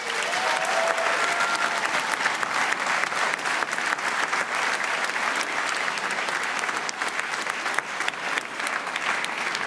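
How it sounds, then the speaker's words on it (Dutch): Loud, sustained applause from a large audience at a dance-off between dance groups that included a flamenco dancer; continuous dense clapping fills the whole stretch without a break. "danseres Eva Fernandez van Move to the Beat geeft ze een groot applaus."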